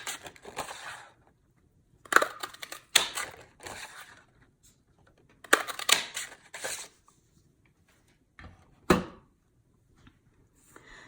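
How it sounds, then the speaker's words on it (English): A craft punch snaps through green cardstock to cut flower shapes, giving several short, crisp crunching clicks in separate bursts with quiet gaps between, close by and with no talking. "Then I'm going to punch out 3 of the flowers."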